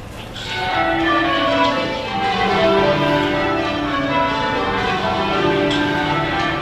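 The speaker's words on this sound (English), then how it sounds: "And the Abbey bells ring out in celebration of Queen Elizabeth II's 96th birthday." Westminster Abbey's church bells peal from the northwest tower in celebration, overlapping ringing tones tumbling continuously at a steady, loud level with no voices.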